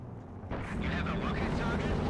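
A rocket artillery barrage from a Werfer in a competitive strategy game match opens with a sudden blast, then a continuous rumbling roll of explosions swells underneath a talking voice.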